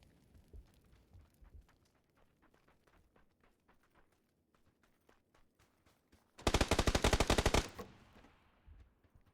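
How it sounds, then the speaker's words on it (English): A sustained automatic-weapon burst in the PUBG battle royale game, on the snowy Vikendi map in a duos match, rings out loud for about a second after quieter in-game movement and shuffling sounds. "Good shots from Supreme there"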